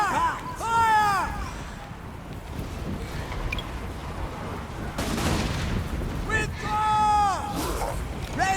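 Handgunner units fire volleys of guns in Total War: Warhammer, with sharp shots and crackling bursts at the start and again near the end. Game voices call out orders over wind-like battlefield noise.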